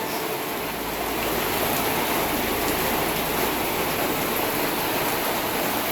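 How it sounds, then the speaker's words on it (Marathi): Heavy rain pours down steadily during a backyard cricket game, a dense, loud hiss of water filling the air without pause. "या एवढ्या पावसात पण जय आपला क्रिकेट खेळतोय"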